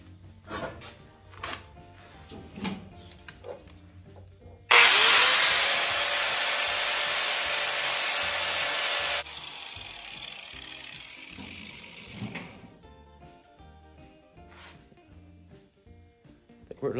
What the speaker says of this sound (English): I'm going to clamp the two together and grind a little bit more on that